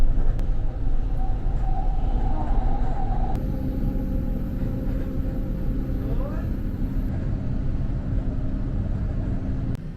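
A train rolls past between roads on either side in Qatar, a continuous broad rumble with rising and falling tonal whines and a high steady tone for a few seconds, loud and close throughout.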